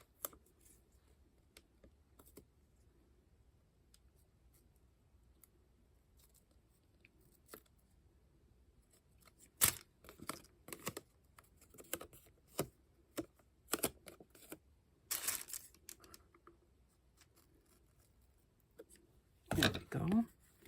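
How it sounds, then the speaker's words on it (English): Paper being trimmed with scissors around the corner of a handmade journal, a series of sharp snips and rustles clustered mostly in the second half, close and quiet. "I'm going to trim around that corner"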